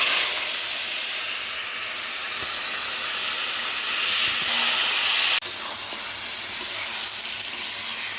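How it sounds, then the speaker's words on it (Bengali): Mutton sizzles steadily as it cooks in oil in a wok, a loud continuous hiss with a brief clatter partway through, and no talking. "তো বন্ধুরা এখন মাংসটা রান্না করব।"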